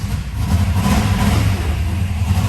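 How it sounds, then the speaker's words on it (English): A 1971 Chevrolet Camaro SS396 big-block V8 rumbles loudly and steadily through its exhaust, a deep continuous engine roar close to the microphone with slight swells in revs and no talking. "Listen to the exhaust."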